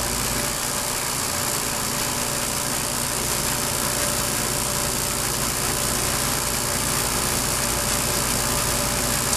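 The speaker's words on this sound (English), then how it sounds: "So we'll warm it up with the annealing torch first." An annealing torch roaring steadily and loudly as it heats a Pyrex glass envelope, a dense unbroken hiss of burning gas with faint speech beneath it.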